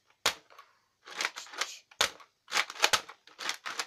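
A Nerf Arsenal blaster fires foam darts in single shots, a series of sharp, close clicking pops with short pauses between them and quiet gaps where it is reloaded.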